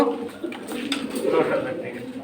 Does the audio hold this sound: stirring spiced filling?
no